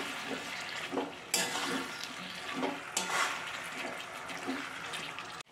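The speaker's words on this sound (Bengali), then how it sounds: "এবার টমেটো কুচিগুলো দিয়ে দেব।" Chopped tomatoes go into pumpkin cooking in a pan, bringing wet sizzling and repeated stirring scrapes, several swishing strokes in a steady rhythm, close and fairly loud.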